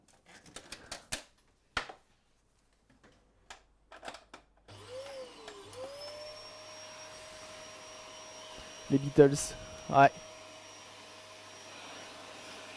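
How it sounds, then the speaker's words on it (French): A vacuum cleaner dusting the inside of an Asus PC monitor switches on after a few scattered taps, then runs steadily with a rising whine and some bumping, under brief speech. "c'est que le son vraiment de l'aspirateur, vous l'entendez pas trop alors qu'il est vraiment bruyant"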